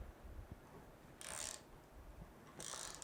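Vise being tightened on a bolt, giving two short bursts of ratcheting, rasping clicks about a second apart, faint and close against a quiet background.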